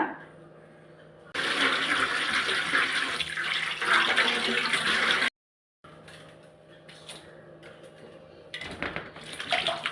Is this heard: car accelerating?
no